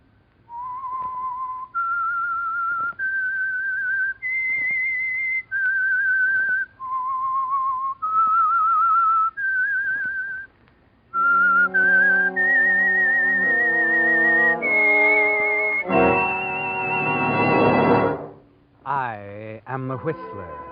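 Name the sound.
whistled melody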